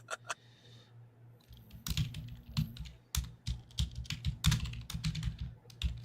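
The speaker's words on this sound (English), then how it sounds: "And they're typing away." Typing on a computer keyboard, a quick run of key clicks, then bursts of irregular clatter close by, heard alone.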